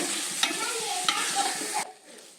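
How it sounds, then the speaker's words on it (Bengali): Rice frying with spices in a pan for egg pulao, a dense continuous sizzle with scraping strokes of a stirring spoon, close and fairly loud before the sizzle drops away abruptly near the end. "আরো মিনিট 3 সময় নিয়ে চালটা সুন্দরভাবে এখানে কষিয়ে নিতে হবে"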